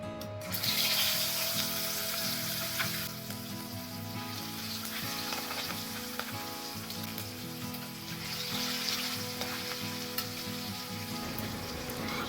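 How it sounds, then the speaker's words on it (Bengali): Katla fish pieces fry in hot mustard oil with turmeric, a dense steady sizzle that runs on for several seconds, with a faint scrape or two. "গরম তেলে একটা একটা করে মাছ দিয়ে মাছগুলো চারিপাশ লাল করে ভেজে তুলে নিচ্ছি"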